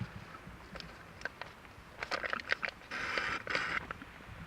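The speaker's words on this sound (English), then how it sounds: "That noise is me sucking on a Capri Sun." Someone sucks on a Capri Sun drink pouch, producing faint slurping, crinkly gurgles in short bursts that grow into a longer rasping pull near the end, close and quiet.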